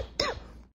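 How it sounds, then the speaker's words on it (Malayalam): A single short, sharp cough from a man, close and fairly quiet, followed by a brief fading throat sound and silence. "സീൻ കണ്ടിന്യൂറ്റിക്ക് വേണ്ടി ചുമയിട്ടതാ."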